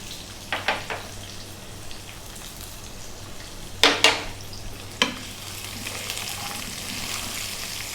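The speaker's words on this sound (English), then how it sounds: "Now we add the onion and the chili and cook for 3 minutes." Onion and chili cooking in a pan for an egg curry, a soft, even sizzle in the background with a few sharp utensil knocks and scrapes, with no talk.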